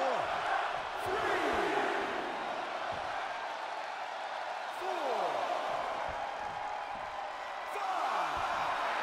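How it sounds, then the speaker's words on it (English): A WWE wrestling crowd in an arena roars in rolling, continuous waves, with surges of cheering and sharp thuds from the ring cutting through. "The sound of this crowd is deafening"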